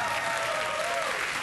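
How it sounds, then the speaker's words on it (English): Studio audience at a late-night talk show applauding, a dense, steady wash of many hands clapping throughout, loud and continuous with no break. "I really hate it when people applaud my age"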